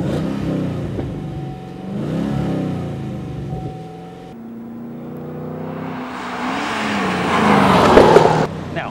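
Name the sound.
Chevrolet Camaro ZL1 engine revving through dual-mode exhaust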